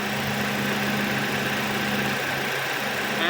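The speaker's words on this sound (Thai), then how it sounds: "เดี๋ยวเรามาฟังเสียงเครื่องกันดู" A 2017 Toyota Altis 1.6G petrol engine idling at its standard factory state, a steady low hum and even mechanical whir heard close up and alone with no talk.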